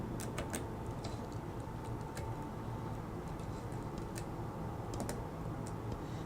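Soft, irregular metallic ticks and clicks come from pins as a Corbin Russwin lock is picked with tension at the bottom of the keyway, heard close up over a low steady hum.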